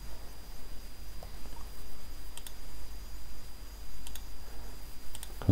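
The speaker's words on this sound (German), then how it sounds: "Ich klicke auf Pushen." A few sharp mouse clicks on the Push button in GitHub Desktop, spaced out over a quiet, steady background hiss, each one brief and close.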